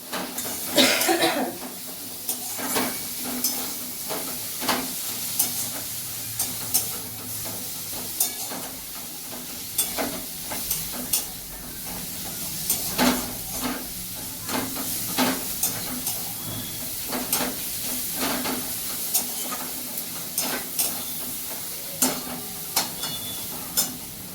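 Tomatoes for a Bengali tomato chutney are stirred in a sizzling pan, with repeated scraping strokes and a steady hiss of frying, close and fairly loud, plus an occasional cough-like burst near the start.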